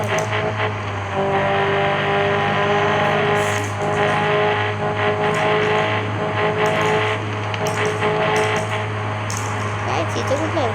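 A car accelerates hard through second gear toward third, climbing to around 70 and then 90, its engine a loud, steady drone with a rising tone while someone talks over it throughout.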